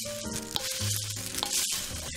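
Dry Chex cereal, golden grains and M&Ms are tossed together in a large Pyrex glass bowl, giving a steady rustling crackle with a few sharper clinks, and tonal background music plays underneath.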